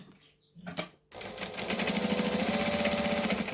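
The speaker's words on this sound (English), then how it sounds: "Now I'm stitching about 1/8 of an inch away from the fabric, so my blue fabric." A domestic sewing machine stitches blue fabric about an eighth of an inch from the edge: a short burst, a pause for the pivot with the needle down, then a steady, close, fast mechanical whir running to the end.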